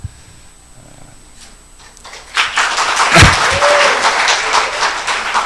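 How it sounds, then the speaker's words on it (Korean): Lecture audience clapping at a talk on Reformation-era European political thought, quiet at first, then a burst of many hands clapping that swells and holds fairly loud for about three seconds with a low thump near the start. "썰렁하니까 박수를 쳐주시는 거죠"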